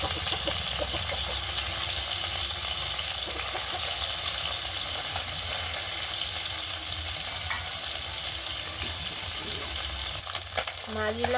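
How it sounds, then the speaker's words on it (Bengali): Koi fish fry in hot oil with a continuous close sizzle and crackle. Faint scraping and stirring run underneath, and a brief tonal sound rises near the end. "দেখুন বন্ধুরা কই মাছগুলো আমার ভাজা হয়ে গেছে"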